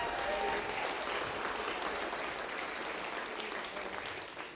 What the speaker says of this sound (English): Please give them some applause and thank you.